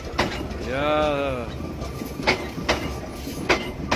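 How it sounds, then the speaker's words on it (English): A train passes at the last station on its line, with rolling rumble and sharp rhythmic clacks of wheels over rail joints; a brief voice speaks near the start over the close, fairly loud passing. "Look at the beautiful train."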